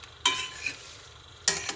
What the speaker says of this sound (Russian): Я попробую еще на сковородке вот это прогреть, эту свеклу, что получится.